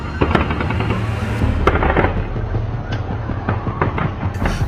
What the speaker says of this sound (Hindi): जहां भीड़ के बीच गोलियों की आवाज साफ साफ सुनी जा सकती है